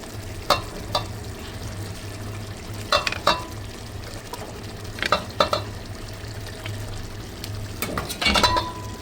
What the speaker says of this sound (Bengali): তো এখন এর মধ্যে আমি চিকেনগুলো দিয়ে দিচ্ছি, ভাজা চিকেন।